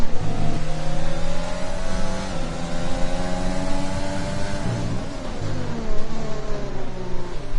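F1 race cars in a video game at the Bahrain Grand Prix, several high-pitched engines screaming together at constant loudness with rising and falling revs as they battle through corners.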